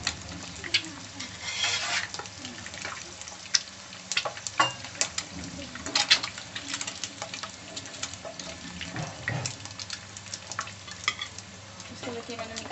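Eggs sizzling in a frying pan for an Indian egg curry, with steady crackling spatter and occasional clinks and scraping of a utensil, no voices.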